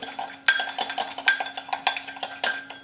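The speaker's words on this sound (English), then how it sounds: "So you keep whipping this until it gets to be like peanut butter." Sugar and espresso whipped briskly with a spoon in a cup for Cuban coffee, a quick series of close, bright metallic clinks and scrapes in an uneven rhythm, with no voices.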